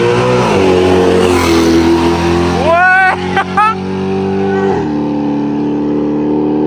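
A Mercedes C63 at a drag race in Islamabad idles with a deep loud rumble, then revs sharply in a few quick rising bursts before settling back to idle, with voices of people nearby.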